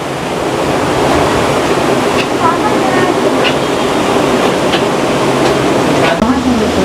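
Water rushes down at Srisailam dam in a loud, constant roar, like heavy surf, that fills the whole stretch.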